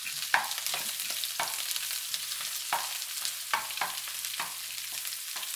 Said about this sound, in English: You're kind of browning the gingers and the garlic.